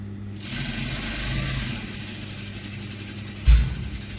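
A sewing machine stitching Ankara fabric at a half-inch seam gives a steady mechanical whirring run with a faint rattle and ends in a brief louder knock, with no talking.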